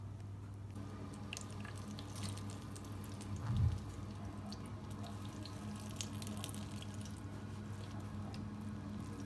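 Squeezing water out of steamed, mashed cauliflower wrapped in a cloth, liquid trickling and dripping steadily with one brief wet squelch partway through, close and quiet over a low background hum, no talking.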